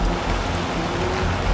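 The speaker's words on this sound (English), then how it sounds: "It's currently raining." Outdoor rain falls in a steady, even hiss of dense drops, fairly loud and close, with no voices.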